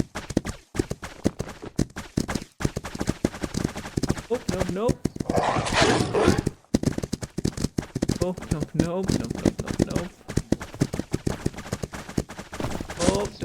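Horse hooves galloping in the video game Myth of Empires, a fast, steady clip-clop of close hoofbeats running throughout, under a man's frequent anxious speech and a whinny partway through.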